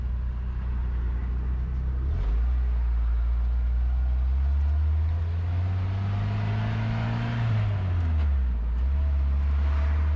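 A YJ Jeep fitted with a VW TDI diesel engine drives along, its steady low engine drone rising and falling with gear shifts, heard from inside the cab and loud throughout, with no talking.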